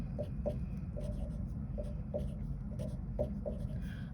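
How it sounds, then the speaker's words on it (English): Math notes being written by hand, a series of short, evenly spaced scratching strokes close to the microphone over a steady low background hum, with no talking. "I'm going to write my PEMDAS"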